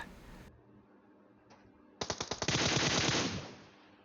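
Long-range gunfire in PUBG Mobile: a quick string of about five sharp shots, then a dense burst of rapid automatic fire that rings out and fades, loud and close against near silence.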